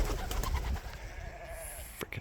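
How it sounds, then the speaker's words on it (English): Pigeons cooing close by in a quiet space, a few soft throaty coos over a low hum with faint scuffs and taps, the whole thing fairly hushed. "freaking pigeons"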